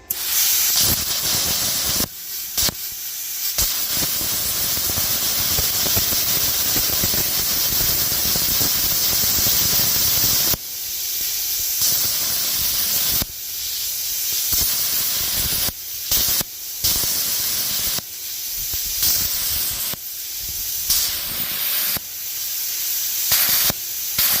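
A CUT50 110-volt plasma cutter slices through rebar with a loud, steady hiss that starts and stops in repeated bursts, with short silent gaps between cuts.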